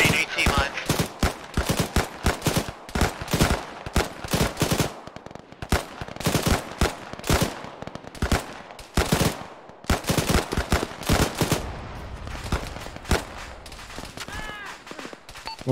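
Rapid bursts of automatic rifle and machine-gun fire in Arma 3 military-simulation combat, dense cracking volleys repeating across the whole stretch with brief gaps, loud and close.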